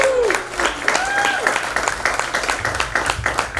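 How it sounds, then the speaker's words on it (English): A live comedy show crowd at a Richmond, Virginia venue applauds and cheers as the headlining comedian is introduced, with sustained loud clapping, a few whoops and voices mixed in. "let's give a great big energetic round of applause to Lucy Bonino"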